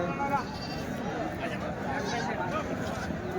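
Goats and bucks bleat at a busy weekly livestock market in Kadiri, short cries rising over a crowded din of people talking nearby.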